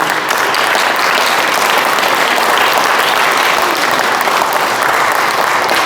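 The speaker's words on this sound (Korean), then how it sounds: "환영의 박수로 해주시면 감사하겠습니다" Sustained welcoming applause from a large crowd at a forum event, dense and steady throughout, filling the room without pause.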